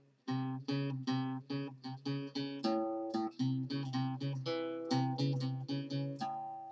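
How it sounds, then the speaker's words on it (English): Guitar playing a passage that moves from a minor third to a major third, with clear plucked notes and chords in a steady, moderately quiet run that ends on a ringing final chord. "it's the minor to major tonality of the 3rd, going from a minor 3rd to a major 3rd"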